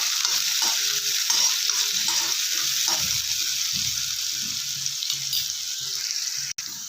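Chopped onions fry in a pan over a medium flame while amaranth leaf palya is cooked, giving a steady, close, continuous sizzle with occasional stirring scrapes and no talk.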